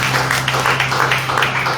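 A church congregation applauds, a continuous rapid patter of many hands clapping at moderate loudness, over a low steady hum.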